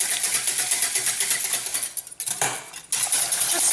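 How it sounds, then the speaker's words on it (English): A whisk clinks rapidly against a bowl as one whole egg is beaten into milk and melted butter for hot cross bun dough, with busy metallic rattling up close and a brief pause midway. "we're just going to add the egg, one whole egg, to that milk and butter, and just whisk that"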